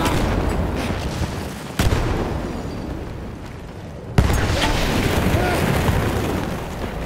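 Grenade explosions in the video game Battlefield 1, two sudden booming blasts a few seconds apart amid continuous loud rumbling battle noise, close and heavy.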